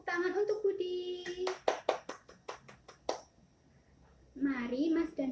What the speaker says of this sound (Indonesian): Semua beri tepuk tangan untuk Budi.